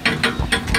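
A ratchet works on rusted exhaust bolts of a farm truck, giving four quick, close, crisp metallic clicks in a steady rhythm.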